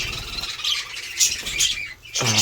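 Pet birds feeding together, young and adult, giving short harsh squawks and chirps close by over a rustling background, no voices.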